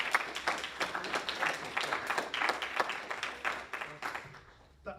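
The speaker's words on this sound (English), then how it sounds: "I think that deserves another round of applause" An audience applauds at a conference session, a dense wash of clapping that swells and slowly thins out over a few seconds, with faint voices underneath.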